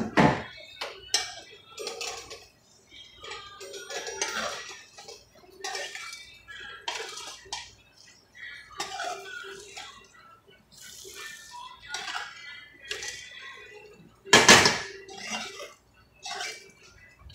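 Rice with pigeon peas being turned over in a pot for the first time, Puerto Rican style, a series of scraping, clattering spoon-against-pot sounds in uneven bursts with one sharper knock near the end, no talk.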